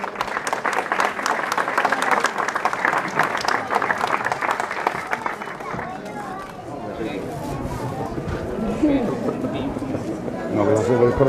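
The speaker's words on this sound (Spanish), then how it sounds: "Muy bien, un aplauso." An audience at a 2017 farolico festival event applauds, a dense burst of clapping that fades into crowd chatter and voices before clapping swells again near the end.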